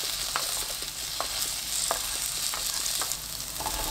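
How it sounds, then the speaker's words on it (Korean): Potato pieces stir-fry in cooking oil in a pan over medium heat, giving a close, continuous sizzle with sharp clicks of a spatula stirring at a loose, irregular rhythm. "중불로 2분 볶습니다"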